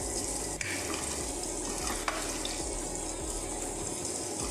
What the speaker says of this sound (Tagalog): i-brown lang natin ang ating onion